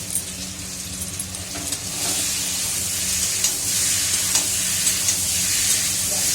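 Potatoes sizzling in hot oil in a pan, a steady close hiss of frying with occasional scraping and stirring strokes, no voices.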